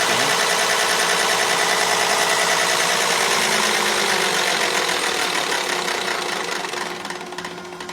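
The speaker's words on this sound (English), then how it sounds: "Now we're down here at cranking speed," A 1968 Moline G900 tractor's diesel engine runs steadily at low cranking speed, a loud, close, even rhythmic drone that fades slightly near the end, with no talk.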